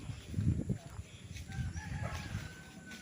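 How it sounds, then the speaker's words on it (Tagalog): Chickens on a rural farm lot in Liliw, Laguna cluck and crow faintly at a distance, with low rustling and soft ambient noise throughout and a thin rooster call rising toward the end. "Mga manok, meron ding mga bibe, ayun, mga bibe na alaga."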